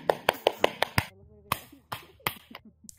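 A beatboxer imitates hand clapping with his mouth: a quick run of six sharp, snappy clicks in steady rhythm, close and fairly loud, followed by a few scattered clicks and mouth noises.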